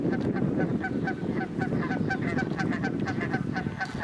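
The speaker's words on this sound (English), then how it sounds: "So that's a goose, a Canadian goose. He's noisy." A Canada goose honks in a backyard, giving a steady run of loud, close, nasal honks in quick repetition, with a second goose seemingly answering over a rumbling outdoor background.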